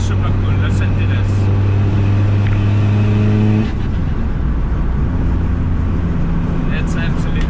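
A tuned car's engine runs loud and close, holding a steady droning note before its pitch shifts partway through as the revs change.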